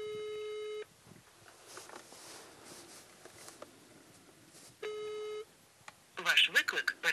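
Two long, even telephone ringing tones sound with a pause between them and nobody answers, while a faint voice talks quietly underneath and louder chatter breaks in at the end.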